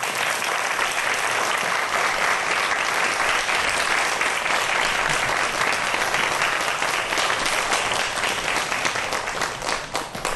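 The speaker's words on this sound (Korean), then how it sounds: "박정주 박사님, 여러분 큰 박수로 무대 위로 모시겠습니다." An audience gives loud, sustained applause as a guest scientist is welcomed onto the stage, a dense continuous roar of clapping that runs unbroken for about ten seconds before dipping briefly at the end.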